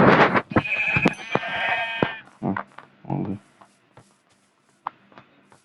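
Minecraft sheep bleat in loud, wavering calls at the start, followed by scattered clicks and soft thumps as things quiet down.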